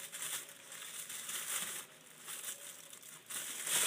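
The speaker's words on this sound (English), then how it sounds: "I'm gonna cut little tiny holes in this bag." Scissors snip small holes in a plastic bag, producing a steady series of crinkly, crackling plastic rustles up close, with brief pauses between bursts and no talking.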